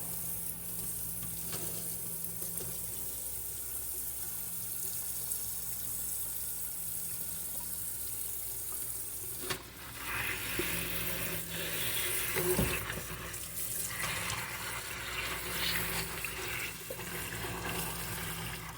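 Purple hull peas rinsed under a running tap, a continuous faint rush of water with splashing that swells around the middle as the peas are stirred about.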